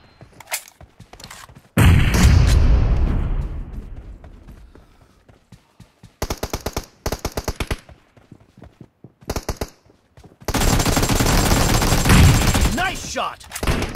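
Gunfire from an AKM rifle with the Jack-O-Lantern skin in PUBG Mobile team deathmatch: a loud full-auto burst, then rapid trains of single shots and another long close burst, with in-game voice callouts in between.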